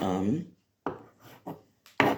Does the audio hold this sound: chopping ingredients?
yes